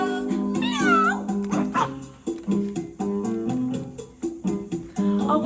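A voice imitates a cat's meow in a wavering, sung caterwaul, followed by a string of short, rhythmic yips and barks that repeat like a dog's, all close and clear against a quiet background.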